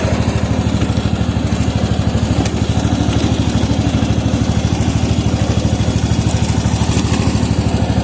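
An MTD lawn tractor runs slowly at low revs through wet grass, its engine putting out a loud, steady, rapid chugging throb that stays constant throughout.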